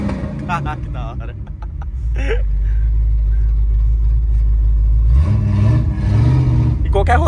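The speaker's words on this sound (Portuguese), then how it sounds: "o que mais chama atenção é o ronco" A Ford Maverick V8 rumbles nearby, its deep idle rising into a louder, sustained revving roar, with someone talking over the start.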